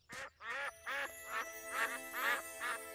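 A cartoon duck quacks in a series of about seven nasal, buzzy calls, evenly spaced, loud and close, with no talking over them.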